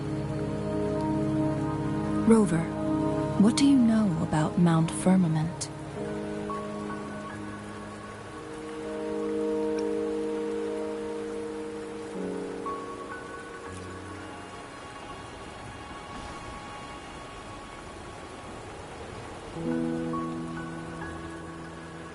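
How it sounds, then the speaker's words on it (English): Steady rain falls in the video game Wuthering Waves, a continuous patter under soft in-game music, with a voice speaking briefly near the start. "Don't worry, the rain won't last much longer."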